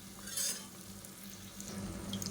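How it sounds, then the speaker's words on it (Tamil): Ground masala paste frying with sautéed onion and tomato in a pan for Tamil-style oil brinjal kuzhambu, a soft continuous sizzle with a brief louder hiss early on and light stirring, fairly quiet and close. "நம்ம அரைச்சி வச்சுருக்க இந்த மசாலா பேஸ்ட்டை சேர்த்துக்கலாம்."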